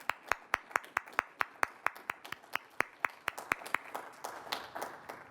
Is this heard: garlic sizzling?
no